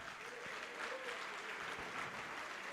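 A church congregation applauding together, a dense continuous wash of clapping heard at a moderate distance with no pauses.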